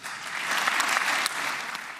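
Sustained applause fills the Knesset chamber after a speech declaring the war over, a dense steady clatter of many hands that swells slightly midway and carries on without pause.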